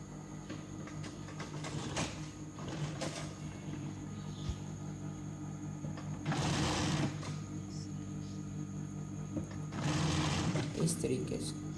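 A sewing machine stitches the edge of a rickshaw hood in short runs of whirring with pauses, under a steady background hum while someone talks throughout.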